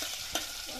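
Food fries in hot oil in a pan over a wood-fired stove, a faint steady sizzle with a brief stir, quiet and close, no talk.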